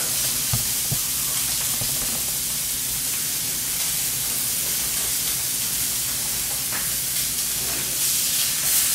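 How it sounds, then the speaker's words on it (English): Meat sears in a hot pan, a loud, continuous close-up sizzle and hiss with occasional sharper spits and crackles over the steady frying. "We're just searing them on the outside."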